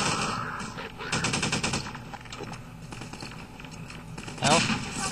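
Automatic weapon fire in the video game Half-Life 2, rapid bursts of shots at moderate loudness with in-game sounds, and a voice talking over it.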